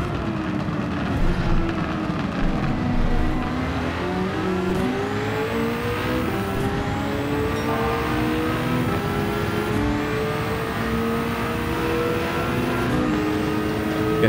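A Gran Turismo 7 race car at speed, Le Mans SF19 Honda, gives a loud continuous engine howl whose pitch climbs steadily through the gears, with brief high whines near each shift.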